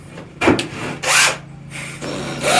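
A reciprocating saw cutting through barn wood in three short, loud bursts, each a harsh rasping whine, with faint hum between cuts.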